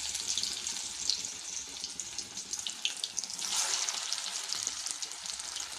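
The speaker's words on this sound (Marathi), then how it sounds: "दुसरी सुद्धा आपण अशाच प्रकारे तळून घेऊया." Kothimbir vadi, a coriander fritter, fries in hot oil with a steady, fairly quiet crackling sizzle that runs throughout, with no talking over it.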